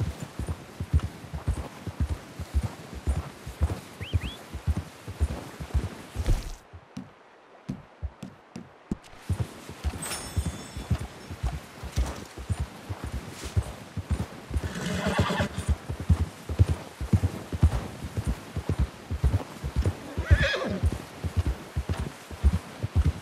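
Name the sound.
horse trotting and neighing in video game Red Dead Redemption 2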